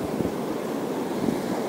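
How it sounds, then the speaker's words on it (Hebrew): Steady wind gusting over the open sea during a fishing trip, a loud continuous rush buffeting the microphone with the wash of water beneath, no voices. "יש קצת רוח היום"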